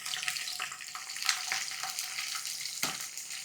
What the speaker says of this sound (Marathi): आता याच तेलामध्ये आपण लसूण तळून घेऊयात.